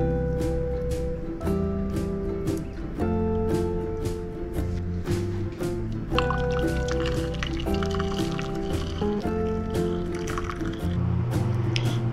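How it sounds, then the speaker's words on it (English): Calamansi halves squeezed by hand over a strainer, with soft squishing and dripping juice running under steady background music throughout. "I cut the calamansi in half and just squeeze it over a strainer so I don't get the seeds"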